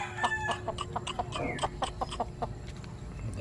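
Backyard chickens about five months old clucking repeatedly in a close, busy chorus, with a rooster crowing partway through amid steady farmyard noise.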